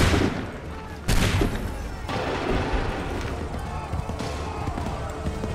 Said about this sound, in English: Open fire.